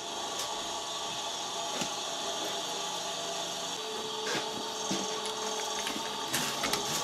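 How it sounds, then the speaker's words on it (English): A ratchet tool screwing in and tightening a plug, giving a dense run of quick mechanical clicks and rasping ratchet sounds that continue steadily throughout, fairly close. "screw it in and then tighten it up"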